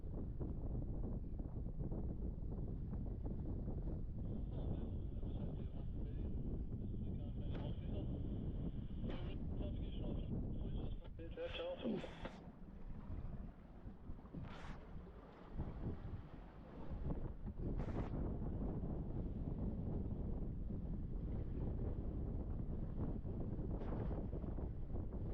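Strong westerly wind roars steadily across the microphone aboard a sailboat near Jura in Scotland, a constant low rumble throughout, joined by brief higher rattles and clatter partway through.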